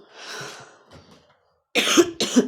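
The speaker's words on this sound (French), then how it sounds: "C'est une toux de tabac, ça." A smoker's harsh cough bursts out in a quiet room, one rough hacking fit followed by two louder, sharp coughs at close range.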